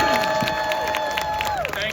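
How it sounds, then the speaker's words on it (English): A community meeting crowd in Barrhaven cheers and applauds for Sandy, a stage 3 cancer patient: clapping mixed with whoops and raised voices, fairly loud and continuous for a couple of seconds. "So can we all have a big cheer for Sandy"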